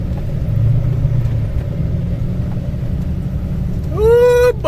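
A farm vehicle rolls through a wet ford crossing beside fields, giving a steady low engine rumble with water churning, close and loud, and a rising whine near the end.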